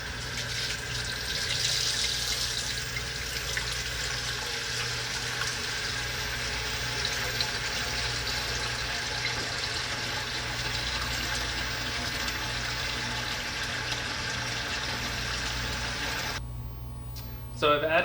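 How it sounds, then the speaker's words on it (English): Hot water from a home water heater running into a mash tun for homebrewing beer, a loud continuous rushing fill lasting the whole stretch before cutting off at the end. "Now what I'm filling it with is with hot water, right from my hot water heater."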